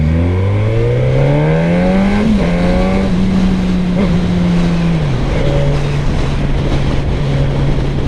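A Suzuki GSX-S 1000F motorcycle engine drones steadily while riding, its pitch climbing through a gear, then dipping slightly at each shift and holding at cruise, loud and close, with wind rush underneath.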